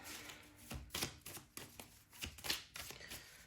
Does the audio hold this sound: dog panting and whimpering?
no